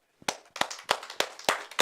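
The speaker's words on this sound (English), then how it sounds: "Clap your hands." A small group in a church claps hands together as a health exercise, six sharp, evenly spaced claps close by, each ringing out briefly before the next, no talk.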